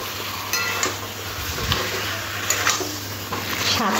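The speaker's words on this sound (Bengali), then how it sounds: "চিকেনটাও মশলার সাথে খুব ভালো করে কষে নেব।" Potatoes and marinated chicken are stirred and fried with spices for a masala chicken curry, a moderate continuous sizzle with spatula scrapes and light clinks at irregular intervals, no talk.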